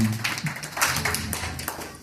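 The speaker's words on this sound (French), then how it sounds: "On applaudit pour le bon Dieu matin." Clapping from a church congregation during a Sunday worship service, with scattered, uneven handclaps heard at moderate distance over a low hum and faint voices.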